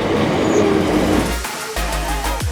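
Train arriving at Sunbury station, a rumbling rush of wheels and motors with rail clatter and a closing hiss of brakes, fairly close and continuous.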